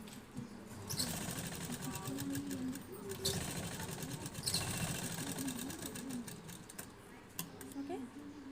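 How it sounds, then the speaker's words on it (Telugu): Sewing machine running steadily while stitching over piping around a garment collar, a continuous mechanical whir with rhythmic needle clatter throughout, with a person talking over it. "పెట్టుకున్న తర్వాత మళ్ళీ దీనిపైన స్టిచ్ చేసుకోండి."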